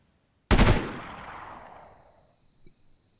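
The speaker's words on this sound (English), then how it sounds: "And riddling them full of bullets." Gunfire from the video game Delta Force 2 while shooting enemies: one sharp, loud burst of rapid automatic fire that rings out and decays slowly over about two seconds, followed by a faint click.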